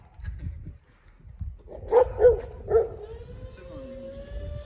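A dog barks three times, fairly close and loud, followed by a drawn-out whine or howl, with faint outdoor rumble in the background.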